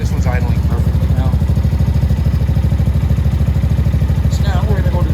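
Motorcycle engine idling close by with a fast, steady, even low chugging pulse and a loud constant level, while a voice talks over it.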